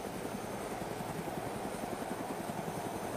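Helicopter in the video game ARMA 2 DayZ, a steady pulsing rotor thrum with engine drone, loud and continuous from inside the aircraft.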